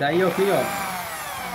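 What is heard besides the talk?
drilling a hole with a thin drill bit for a door lock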